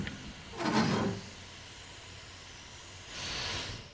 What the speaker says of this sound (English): Use the round wheel to remove the steam in the shower area.